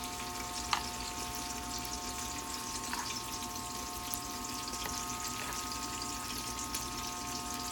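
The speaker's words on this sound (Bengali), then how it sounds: "চিনিটা হালকা হালকা করে ভেজে নিচ্ছি" Sugar lightly frying in a pan for a bottle gourd dal with prawns, a faint steady sizzle under a constant background hum, with a couple of soft utensil clicks.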